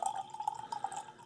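Liquid pouring steadily into a glass, a 40-year-old 1974 Thomas Hardy's Ale by Eldridge Pope, with a continuous trickle and small splashes heard up close and on its own.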